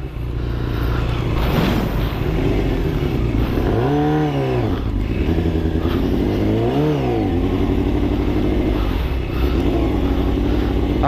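A 1989 Yamaha FZR400R inline-four motorcycle idles loudly up close, then is blipped twice, each rev rising sharply and falling back to a rough idle.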